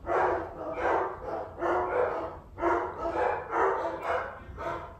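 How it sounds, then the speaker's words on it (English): Several dogs bark in repeated loud, close bursts, roughly a bark every half second, with a few yips mixed in and no pause in the commotion. "My dogs are freaking out momentarily."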